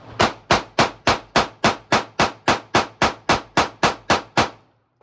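Sig Sauer P365 pistol fired in a rapid string of about fifteen evenly spaced, loud sharp shots, each with a short decaying tail, then silence.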